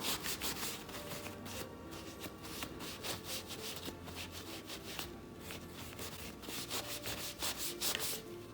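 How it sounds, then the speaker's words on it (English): Steady rubbing and scraping of a sanding block back and forth over wood, close up and continuous, with no voices. "taking a little bit of a sander, just a sanding block, and kind of sand just a little bit"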